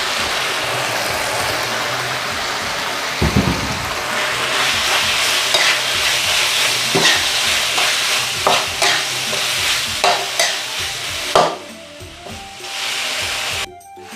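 Fish meat stir-fried in a pan, a loud close sizzle with repeated scraping and knocking strokes from a spatula, ending in a sudden near-silence.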